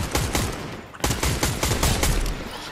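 Rapid bursts of gunfire in the video game Fortnite, loud and close, with repeated shots running through the whole stretch and a short pause near the middle.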